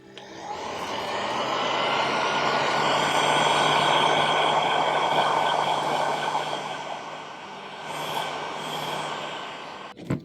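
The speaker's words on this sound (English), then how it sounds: "So I'm just going to use my heat gun, heat up the resin to make it really soft" Heat gun blowing hot air onto cured resin holding real fruit, a steady loud whoosh that swells and holds, then eases off near the end with a short knock.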